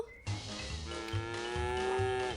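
A long, drawn-out cow moo from a dog simulator video game rises and holds steady over a rhythmic low thumping background, loud and close.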